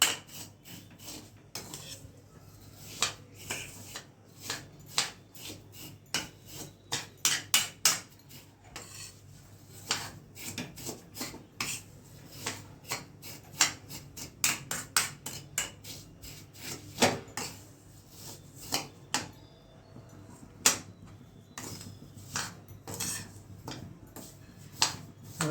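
A utensil stirs sweet sev in ghee in a pan at home, giving sharp irregular metallic clinks and scrapes, quiet overall, with a dense run of quick taps.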